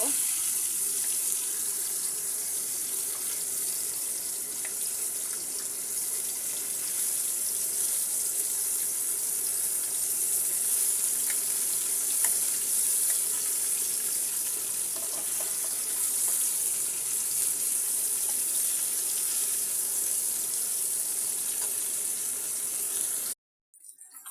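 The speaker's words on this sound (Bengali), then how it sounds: "কই মাছগুলোকে আমি সুন্দর করে ভেজে নেব" A steady, even sizzling hiss of koi fish (climbing perch) frying in hot oil continues for a long stretch, then cuts off abruptly at the end.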